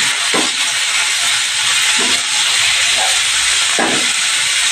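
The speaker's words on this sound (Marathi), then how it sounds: "मेथीचा पाला मी वरती फोडणीला टाकते कांद्यावर" Fenugreek leaves hit hot tempering over onions in a pan, giving a continuous loud sizzling hiss, with a few soft clatters of stirring breaking through now and then.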